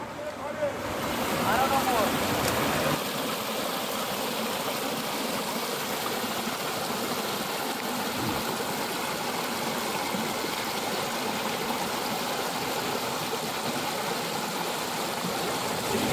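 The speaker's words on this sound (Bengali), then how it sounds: "ডুলুং নদী কত শান্ত বয়ে যাচ্ছে" The Dulung river at Chilkigarh flows calmly in the forest, giving a steady, even wash of water noise that fills the whole stretch with no clear breaks.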